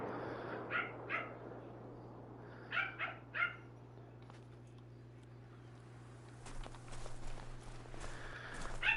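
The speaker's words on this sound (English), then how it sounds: "Sorry if you hear my dog barking." Pet dog barking at a house door during a wildlife outing: a few short muffled barks come from some distance over a steady low hum, followed by soft shuffling noises.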